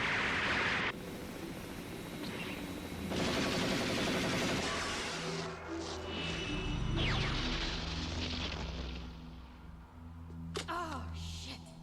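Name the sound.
gunfire from the movie Ghost in the Shell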